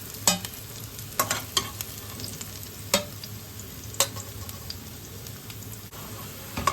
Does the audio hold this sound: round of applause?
no